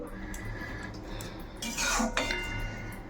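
Pea, potato and paneer curry stirred in a pan, with a few metallic scrapes and clinks of a spoon against the pan, fairly quiet and close over a low background hum.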